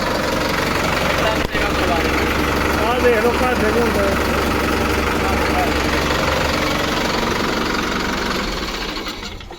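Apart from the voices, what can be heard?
tractor engine idling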